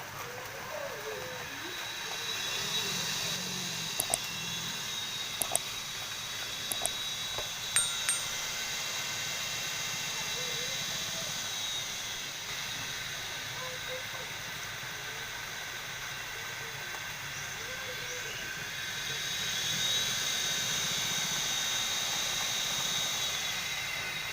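Old car alternator rewired as a brushless motor spins on a bench, producing a continuous high whine and whir with a few sharp clicks early on, slightly louder near the end.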